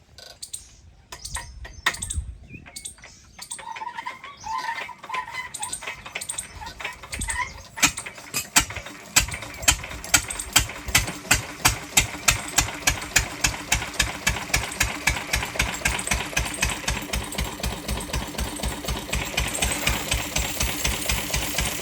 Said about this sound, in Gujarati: જો આ ઓલા ડીઝલ એન્જિન આપણે કહીને એને લિસ્ટર એન્જિન ઉપર છે ને ગાડી વોશ થાય.